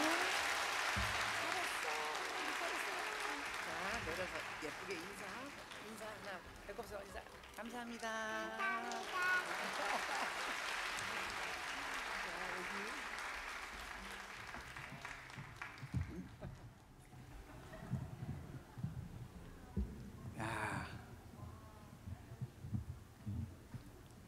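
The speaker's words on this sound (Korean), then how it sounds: "큰 박수 부탁드려요." Concert audience applauding at a live show, a broad sustained wash of clapping that gradually thins out, with a voice speaking briefly over it near the middle.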